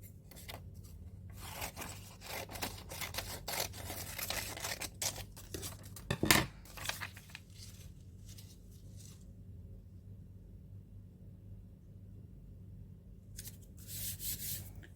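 Scissors trimming paper for an art journal, a run of close, quiet snipping and rustling cuts with one sharper scrape in the middle, then near silence before a brief final rustle.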